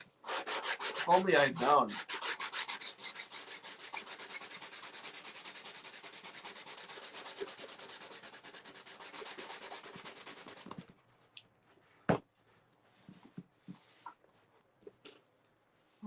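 Sandpaper rubbing over dried putty on a model tugboat, a fast, even back-and-forth rasp that runs close and steady for about ten seconds, then stops, leaving a few soft handling knocks and a brief spoken line.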